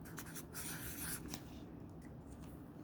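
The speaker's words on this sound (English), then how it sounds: "Let me write a big old 33 right here." A pen writes a large number on paper during cash envelope budgeting, a steady soft scratching and rubbing that runs for about three seconds with no talk over it.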